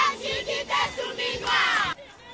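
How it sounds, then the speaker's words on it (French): An enthusiastic crowd greets a head of government's arrival in Lualaba with loud, rhythmic chanting and cheering in repeated surging bursts, close and energetic, before it suddenly drops away near the end. "entre en scène sous les ovations d'un peuple enthousiaste"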